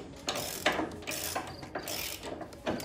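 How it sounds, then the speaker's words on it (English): A 20 mm socket on a ratchet wrench bolts down an aftermarket deck wheel on a Cub Cadet XT1 mower, giving close, repeated ratcheting clicks in short strokes with brief pauses between them. "Now we'll take our 20 millimeter, put this on the outside edge. And we'll bolt her down."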